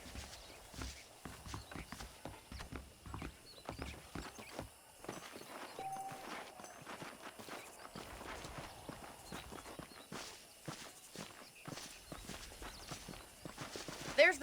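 Horse hooves clip-clop steadily in Red Dead Redemption, a run of fairly close footfalls with a faint voice and game ambience in the background.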